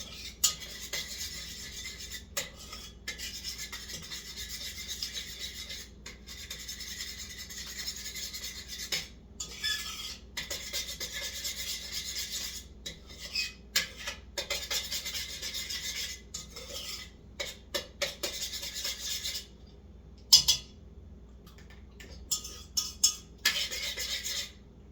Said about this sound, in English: I mix it until the butter and the flour, there's no more flour